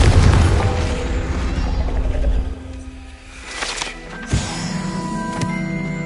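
A Confringo spell goes off in Hogwarts Legacy with a heavy, rumbling boom that dies into a softer mechanical whir, followed by a sharp crack and lingering tonal effects.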